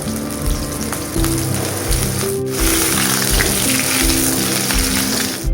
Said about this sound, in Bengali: এরপর কড়াইয়ে তেল গরম করে শুকনো লঙ্কা ফোড়ন দিয়ে আমগুলোকে হালকা ভেজে নেব।